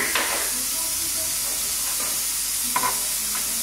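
Masala being stirred and mixed in a pan, with a soft continuous sizzle and hiss beneath a few brief scraping strokes of the spoon, heard close.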